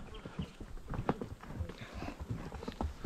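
Hooves of horses on a trail at Kurland park, Plettenberg Bay, clip-clopping in a steady, close walking rhythm of distinct thuds, fairly quiet and without talk.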